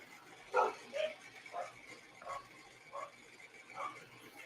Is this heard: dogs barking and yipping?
yes